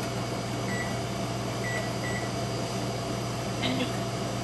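A microwave oven hums steadily while heating hot dogs, a constant drone broken by a few faint short beeps.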